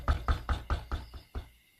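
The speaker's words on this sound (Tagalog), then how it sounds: "Maya-maya, may malakas na kumatok." Loud knocking on a door, a rapid series of about seven heavy, close thuds that slow and trail off.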